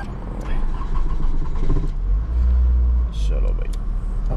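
A Ferrari car pulling away, with a low engine rumble rising and swelling midway as it moves off, heard up close alongside a voice speaking.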